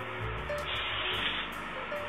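Hairspray hisses in a steady, close spray onto short hair being styled, lasting the whole moment with no pause and no talk over it.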